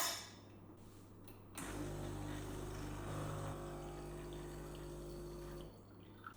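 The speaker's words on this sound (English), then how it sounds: "lock the empty filter basket into the brew head and run a rinse" Kismile CM5020BJ-UL espresso machine running a rinse through its brew head with an empty filter basket locked in: a quiet click, then a steady pump hum and water flow lasting about four seconds before stopping.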